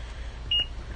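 A single short, high electronic beep from a multimeter's continuity mode while testing a water-damaged Nintendo Switch, clear against a quiet background hum.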